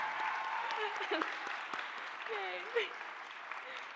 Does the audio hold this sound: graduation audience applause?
yes